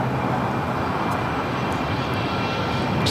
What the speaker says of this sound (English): Just had a Delta 757-300.